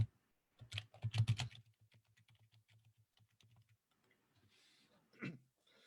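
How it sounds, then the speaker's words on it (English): Typing on a computer keyboard: a quick burst of loud, close key clicks followed by a steadier run of softer, evenly spaced keystrokes, with no talking. "make sure you type in an email address"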